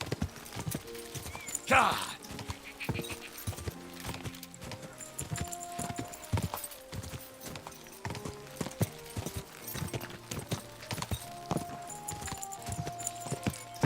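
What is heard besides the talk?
horse hooves clip-clopping in Kingdom Come: Deliverance II video game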